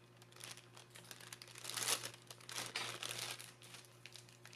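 A plastic icing piping bag crinkles as it is handled for decorating Christmas cookies, with soft crackling rustles that build to a denser burst near the middle and then continue steadily, close and fairly quiet.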